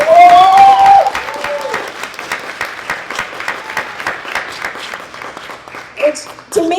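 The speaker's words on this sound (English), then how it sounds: "Please let's clap for them harder." Audience at a panel discussion applauding, with dense steady clapping continuing for several seconds while a person talks over it at the start and near the end.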